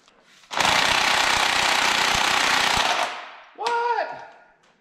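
A cordless NiCad impact tool with a low battery hammers loudly at axle cap bolts in one sustained burst of about two and a half seconds. A shorter voiced sound follows.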